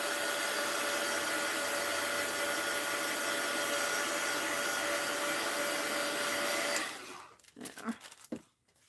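A hair dryer blows steadily and loudly on tea bags laid over wax paper, a constant whooshing drone that cuts off abruptly near the end, leaving scattered quiet handling sounds.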